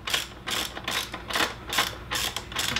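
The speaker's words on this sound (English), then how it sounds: "This is a 17 millimeter socket you'll use to tighten this, but don't tighten it all the way." Ratchet wrench with a 17 mm socket tightening a crash bar bolt on a KLR650 motorcycle, giving rapid bursts of clicking strokes repeated about six times, close up with no talk.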